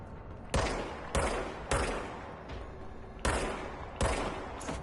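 Gunfire in the Control video game: a rapid series of loud, sharp bursts, about six in five seconds, each ringing out over a steady rumbling game backdrop, with no voice over them.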